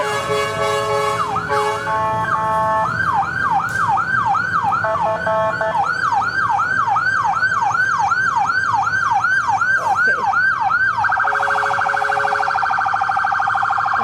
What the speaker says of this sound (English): so the Brewster ambulances are winding it down for us, Bob.